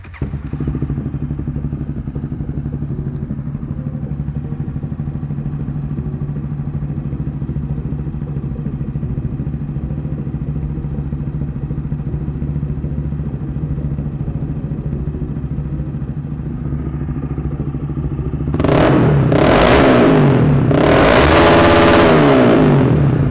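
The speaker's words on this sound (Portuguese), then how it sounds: "podemos fazer o primeiro funcionamento da motocicleta" A motorcycle fitted with a Powercore 4 big bore kit and new EFI LiveClip fuel injection idles steadily and close up, then revs hard near the end with rising, sweeping engine tones.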